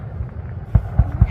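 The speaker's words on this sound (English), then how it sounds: "Wow. Wow. Fireworks." Fourth of July fireworks thump in the distance, three or four low booms spaced about a quarter second apart under rumbling background noise.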